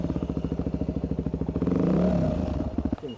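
An enduro adventure motorcycle rolling slowly, its single engine thumping in a close, even putter that swells into a brief louder rev before settling back to steady low pulses.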